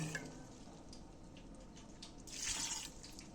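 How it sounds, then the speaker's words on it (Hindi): A little water is poured into a pot of beef mince with garlic, ginger and onion, a faint splashy trickle that swells briefly near the end over a quiet kitchen background, with no voices. "और थोड़ा सा पानी डालूंगी।"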